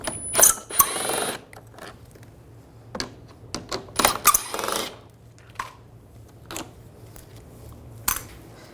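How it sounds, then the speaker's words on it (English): A socket ratchet clicks in short bursts while backing out 8mm screws from the grille of a 2013-2016 Dodge Dart, with scattered sharp metallic ticks and pauses between, close and with no one talking. "On the two sides, use an 8mm socket, take those two screws out."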